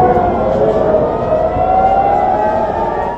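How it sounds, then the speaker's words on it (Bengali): An air raid siren wails across Israel, one loud, sustained tone that slowly rises in pitch and holds steady throughout, with a faint background hum beneath it. "ক্রমাগত সাইরেনের বিভৎস শব্দে যেন নরক নেমে এসেছে গোটা ইসরায়েলে।"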